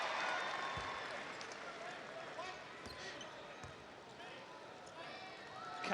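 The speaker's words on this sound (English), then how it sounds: "Hear the crowd. Hear the crowd." Loud, sustained crowd noise fills a basketball arena at a 2006 Tall Blacks vs Boomers game in Melbourne, a continuous wash of cheering and shouts with occasional thuds, swelling slightly at the very end.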